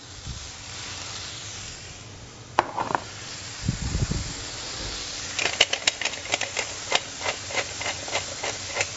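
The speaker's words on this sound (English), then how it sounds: "You can tell that grill's hot because it's sizzling." Salted and peppered burger patties sizzle on a hot grill with a steady hiss, joined by a burst of louder spattering and a run of sharp ticking pops toward the end.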